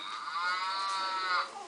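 A baby's toy plays a recorded cow moo, one sustained lowing call lasting over a second, clear and close with no talking over it.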